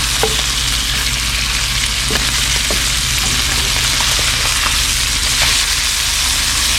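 Stingray meat searing in a hot pan on a breezy pier, a loud, dense sizzle with occasional sharp pops, close up and constant with no voices.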